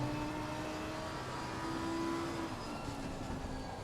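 A Lamborghini GT3 car in a racing video game drones with a steady engine tone and a sustained whine through the whole stretch, at a constant level with no talk.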